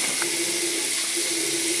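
Hot water runs steadily from a tap while flushing a water heater after an anode rod change, a continuous close hiss of flow with a faint tonal hum beneath it and no talk.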